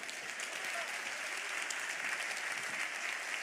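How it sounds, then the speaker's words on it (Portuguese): Steady congregational applause inside a church, a soft, even wash of many hands clapping, faint and distant throughout. "dê uma salva de palmas para o Senhor"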